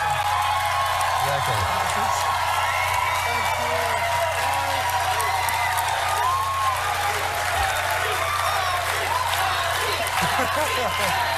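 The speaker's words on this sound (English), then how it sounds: "the cheering that Harry's getting" A large outdoor crowd cheers and applauds for Prince Harry, a steady dense roar of clapping, whoops and shouting that holds at full loudness throughout, with voices mixed into the din.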